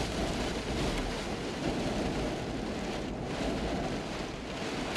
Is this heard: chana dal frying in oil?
no